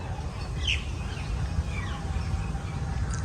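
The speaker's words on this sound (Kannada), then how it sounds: "ಹಕ್ಕಿಯ ಚಿಲಿಪಿಲಿ ಗಾನ ಎಲ್ಲ ಕೇಳೋದಕ್ಕೆ ತುಂಬ ಚೆನ್ನಾಗಿರುತ್ತೆ" Birds chirp and tweet in Lalbagh garden in the early morning, with a few sharp calls over a soft, steady background of outdoor ambience.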